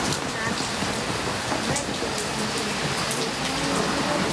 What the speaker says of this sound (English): it is pouring with rain